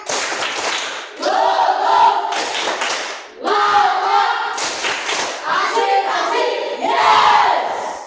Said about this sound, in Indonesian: Tepuk semangat ya.